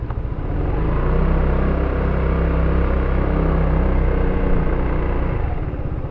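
FKM FYRO 175 motorcycle engine while riding, a loud, steady, full-bodied rumble with a dense low throb that holds constant throughout, heard up close without talk.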